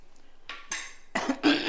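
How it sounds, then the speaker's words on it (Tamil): A pot of rasam lifted off the stove, with a few short metallic scrapes and clanks of the pan on the burner, close and fairly quiet, in bursts. "இப்போ நான் ரசத்தை இறக்கிடுறேன்"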